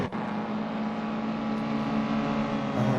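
Loud, steady engine drone from Mini Cooper race cars in a sim racing game at Thruxton, a continuous whirring hum that rises slightly near the end, with no talking.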